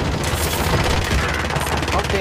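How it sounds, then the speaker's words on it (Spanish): Rapid bursts of gunfire in Call of Duty: Warzone, dense and loud, crackling in quick volleys throughout. "Son tiros."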